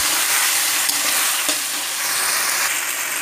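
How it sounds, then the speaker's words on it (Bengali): Cumin and ginger paste being stirred into hot oil give a steady, loud sizzle and frying hiss with faint scraping of the spoon, close up and with no talking. "এবার এই দুটো উপকরণ আমি ভালো করে মিশিয়ে নেব।"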